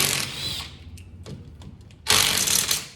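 An impact or power tool with a socket working rusty differential cover bolts on a 1998 GMC truck, heard as a short loud mechanical burst at the start, a pause with small clicks, then a longer loud whirring run close by.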